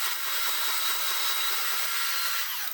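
Power saw blade cutting a coped section, a continuous high, bright buzzing rasp held evenly for a few seconds at close range, with no talking.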